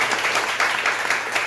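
A burst of steady clapping from a small church congregation fills the moment, close and lively, without speech.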